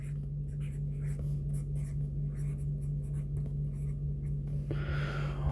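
Chalk or marker writing on a board during a chemistry class, a steady run of short scratching strokes over a constant low hum, fairly close and alone.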